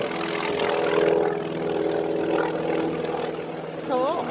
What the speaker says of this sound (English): I believe that's a Douglas Dauntless torpedo bomber from World War II.